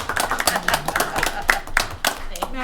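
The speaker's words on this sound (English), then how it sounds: "Come on, we got to applaud all that hard work." Hands clapping in applause at a water district board meeting, a steady run of sharp claps from a small group, with voices talking over it throughout.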